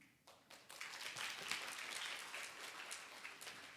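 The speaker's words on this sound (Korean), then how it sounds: "여러분 따뜻한 박수로 맞이해 주시기 바랍니다" Audience applause at a disaster-safety citizen forum starts quickly and holds as a dense patter of many hands, faint and distant.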